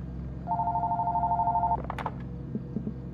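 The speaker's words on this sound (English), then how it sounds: "Oh, the phone's ringing." A telephone rings in the horror video game Fears to Fathom: Woodbury Getaway, giving one steady, trilling electronic ring burst just over a second long over quiet ambience, followed by faint clicks and shuffles.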